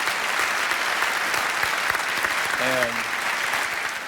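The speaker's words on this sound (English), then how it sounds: "So Mr. Palmer deserves, for all of us, just a great, great round of applause." An audience applauds Mr. Palmer with sustained, dense clapping that fills the room, and a voice speaks briefly partway through.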